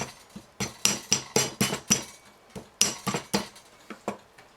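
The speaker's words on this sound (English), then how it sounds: "all you have to do is give it a few taps with a hammer or a tool" A hammer taps the transformer from a scrapped laminator to knock its copper windings loose from the ferrite core: a dozen or so sharp, close metallic knocks in quick irregular clusters with short pauses, no talking.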